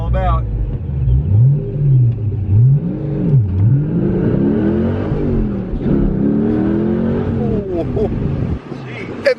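500 hp LS V8 swapped Porsche 911 accelerating hard from inside the car, the engine note climbing and dropping through several gear shifts, loud and close, before easing off at the end.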